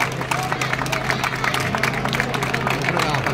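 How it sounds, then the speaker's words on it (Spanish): Applause and crowd murmur at the podium awards ceremony of a city running race in Segovia, as the top three women in the Master 45 category are honoured. Dense, close clapping runs throughout with some background voices. "Un aplauso para ellas."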